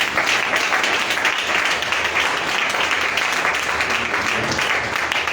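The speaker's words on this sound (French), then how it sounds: "Il y a la sœur Chimène Basumba qui va s'avancer sous nos acclamations." A congregation applauds at a church consecration ceremony as a sister steps forward, a dense, steady wash of many hands clapping together, close and full, with no break across the whole stretch.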